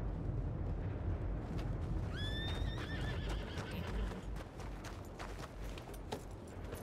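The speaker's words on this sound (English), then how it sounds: "My horse that's running right there." A horse in a video game gives a loud, clear whinny with rising and falling pitch, set against steady clip-clop hoofbeats and constant background noise.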